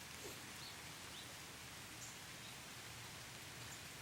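Steady rain falls outdoors at a grandparents' house, a constant soft hiss of drops on surfaces with no voices present.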